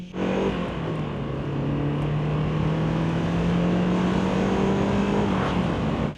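A turbocharged 1.8-litre Mazda MX-5 accelerates in second gear, its engine note climbing steadily and loudly from inside the car, a continuous droning pull with the pitch rising throughout.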